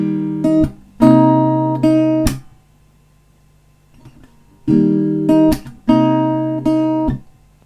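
An acoustic guitar plays a short chord progression: two pairs of strummed chords with percussive slaps between them, loud, close and alone.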